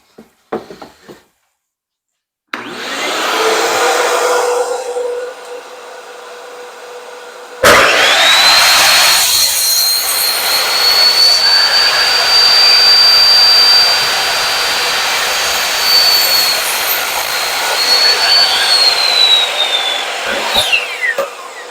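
A power saw cuts a notch into stacked wooden boards, starting with a shorter run and then a long, loud, steady whine through the wood, close by with no talking.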